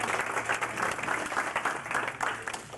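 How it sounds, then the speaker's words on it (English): Steady applause from a crowd at an employee reunion, dense clapping that holds at an even level throughout with no pauses. "let's give you one round of applause"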